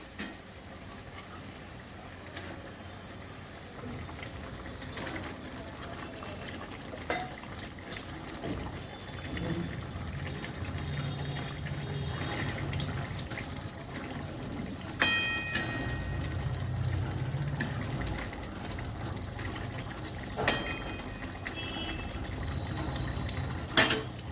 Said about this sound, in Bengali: ঝোলটা ফুটে গেছে এবার আমি মাছগুলো দিয়ে দিচ্ছি